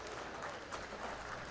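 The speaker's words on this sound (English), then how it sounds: "Based on the applause I'm hearing on the other end and the hugs being given, that match is over." Applause breaks out at a bowling match after the final frame, a steady wash of clapping from the crowd heard from a distance.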